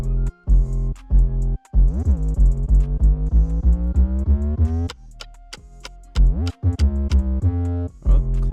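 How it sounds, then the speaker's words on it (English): An 808 bass sample programmed in FL Studio for a moombahton build-up plays as deep, booming pitched notes that repeat and slide upward, with short gaps and a sparse clicking passage partway through. "This is the 808 that I used for the build-up."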